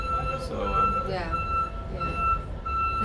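A water truck backs up on a boardwalk, its steady reversing beep repeating at a moderate distance beneath a busy wash of outdoor noise and voices.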